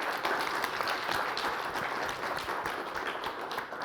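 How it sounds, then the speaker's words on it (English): Audience applause for a host and panel at a discussion event on unions and industry standards, a steady dense patter of many hands clapping at moderate level, fairly distant, with no voices over it. "So if I could just get a round of applause for our host and our panel."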